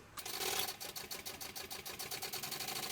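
A sewing machine bastes a pocket onto the exterior of a fabric sling, running in a steady, fast, close-up mechanical stitching whir with a regular pulsing rhythm throughout.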